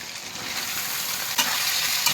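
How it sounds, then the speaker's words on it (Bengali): Potatoes, ginger, radish, beans, peas and green chillies for labra sizzle steadily in a hot pan, with a couple of sharp stirring clicks over the constant close frying hiss. "এবার সবজিটা একটু ভেজে নিয়েছি"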